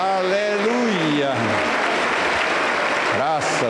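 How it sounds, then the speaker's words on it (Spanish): A church congregation bursts into steady, dense applause during a worship service, with a voice speaking over the clapping at the start and end. "Aplauso para San Jesús."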